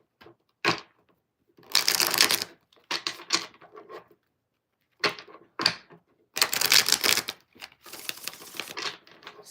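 Tarot cards being shuffled in bursts: sharp riffling rustles and snaps come in several clusters with short pauses between, close and fairly loud, with no talking.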